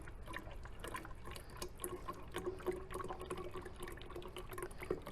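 Liquid is poured into a small container during a relative density science demonstration, oil and water going in together, giving a steady close trickle and splash of filling liquid with faint drips throughout.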